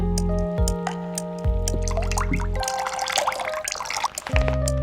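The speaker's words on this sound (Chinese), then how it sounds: "用流动的清水冲洗掉淀粉。" Rice rinsed under running tap water to wash off excess starch while making lamb pilaf. Water trickles and splashes steadily and close by, with some sloshing, and there is no talk.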